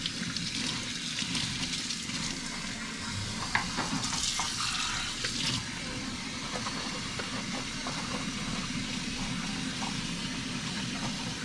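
Tap water runs steadily into a kitchen sink while a dish is washed between batches of blueberry, banana and chocolate chip pancakes, a continuous broadband rush with faint clinks, close and alone without speech.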